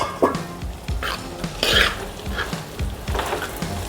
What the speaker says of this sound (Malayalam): നമുക്കിത് ഇടയ്ക്കൊന്ന് തുറന്ന് ഇളക്കി വെക്കാം